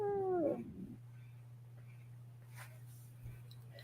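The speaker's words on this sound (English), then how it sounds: "And Dan, those cats they'll brave the cat flap eventually." A cat near a cat flap gives one short, close meow at the start, and then a quiet, steady low hum continues alone.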